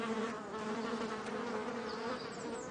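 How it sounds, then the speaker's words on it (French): A dense, steady buzzing drone of about a hundred honeybees swarming over an Asian hornet, continuous and close, with a shrill whine rising briefly near the end. "En quelques secondes, une centaine d'abeilles le recouvre."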